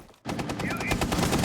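Rapid automatic gunfire from the video game Rainbow Six Siege during a tournament match, a sustained burst of closely spaced shots that starts abruptly and stays loud, with faint voices underneath.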